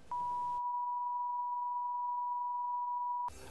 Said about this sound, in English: They play a series of tones and constantly make adjustments until you can hear better